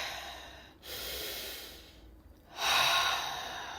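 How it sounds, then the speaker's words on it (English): Slow, deep breathing during a relaxation exercise: a long airy inhale, a pause, then a louder, fuller exhale, close to the microphone and unaccompanied by speech. "relax, take a couple deep breaths"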